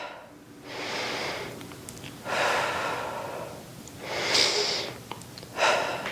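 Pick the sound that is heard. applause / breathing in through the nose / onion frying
breathing in through the nose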